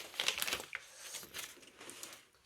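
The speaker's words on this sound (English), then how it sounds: "first we're going to break the chocolate into a glass" Chocolate broken by hand into a glass: quiet crinkling and crackling snaps with a few sharper clicks, irregular and close, without talk.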